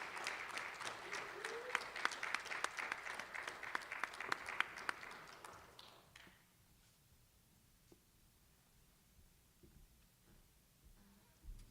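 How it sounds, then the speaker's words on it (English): An audience at a county children's summit applauds for several seconds, the clapping dense at first before fading out to a quiet room. "If I could get a big round of applause for Coach Jesus."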